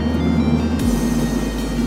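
A budget used car's engine hums inside the cabin while driving, a steady low drone with an even rumble that drops in pitch partway through as the revs fall, moderately loud with no talking.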